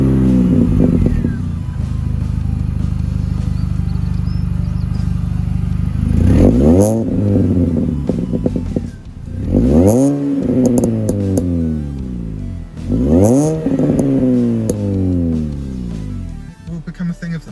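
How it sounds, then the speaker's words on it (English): A combustion-engine car revs hard several times, each rev a rising and falling roar over a steady, rumbling idle, close and loud. "we're going to miss the sound of a combustion engine"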